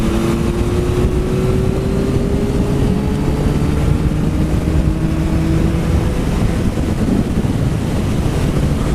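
A 2021 Yamaha MT-09 SP motorcycle with tuned intake and exhaust roars continuously and loudly, its engine drone sliding gently in pitch under heavy wind buffeting, as if recorded while riding.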